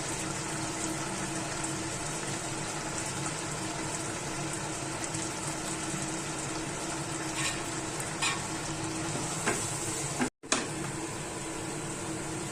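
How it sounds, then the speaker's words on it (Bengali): Onions frying in oil in a pan for chicken do-piaza, a long, even, close sizzle with faint stirring scrapes and one brief drop-out. "পেঁয়াজটা একটু লাল লাল করে ভেজে নেবো"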